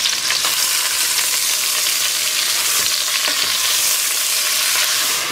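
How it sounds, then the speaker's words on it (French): Peppers and artichoke hearts sautéing in a pan, a loud, steady sizzle with occasional stirring scrapes and clicks throughout, no talking. "on a fait revenir donc pendant 5 minutes les poivrons"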